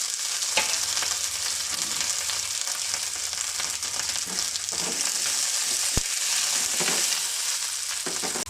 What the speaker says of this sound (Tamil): கருவேப்பிலையை கொஞ்சம் போட்டுக்குவோம்.